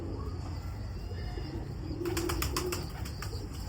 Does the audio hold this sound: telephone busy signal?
no